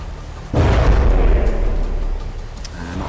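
Ship weapons fire in the naval combat game From the Depths: one heavy, booming blast hits suddenly, followed by a long rumbling roar that slowly fades.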